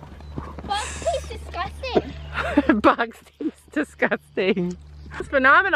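Horses walk at a riding arena with a soft clip-clop of hooves, mostly buried beneath people talking close by.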